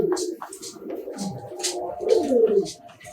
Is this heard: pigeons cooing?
yes